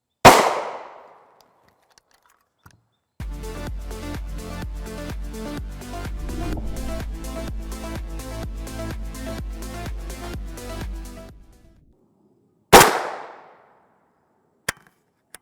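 An FN SS190 5.7x28mm round is fired into a test block, a sharp single report alone, with a separate burst of rapid mechanical rattling between shots and another crisp crack afterward.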